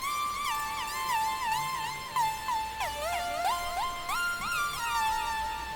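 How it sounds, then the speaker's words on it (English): A bright, buzzy supersaw synth lead built only from saw waves plays a bouncy melody with gliding pitch slides between notes, steady and upfront with no voices. "this is a cute little lead I made."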